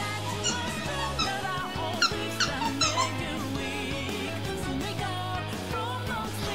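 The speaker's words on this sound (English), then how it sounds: "Squeaky toy, I hear." Repeated high, squeaky chirps of a squeaky toy in the video game Persona 5 Strikers pop out over a busy backdrop of game music and sound effects.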